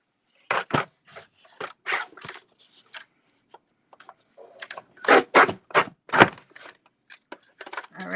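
Headers being cut off 12 by 12 cardstock sheets with scissors, a close series of crisp snips and crunches in irregular bursts, separated by short pauses.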